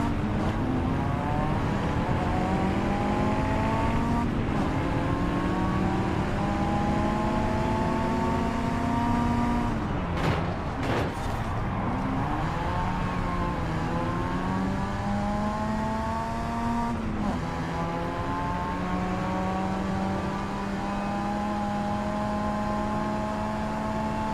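An underpowered car engine strains through the gears in Forza Horizon 5, a loud droning tone rising slowly in pitch, dropping briefly at a shift, then climbing again and struggling in fourth gear.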